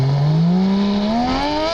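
Porsche 911 GT3 RS with a naturally aspirated 4-litre flat-six revving hard, a loud, close engine note climbing steadily in pitch over nearly two seconds with no talk.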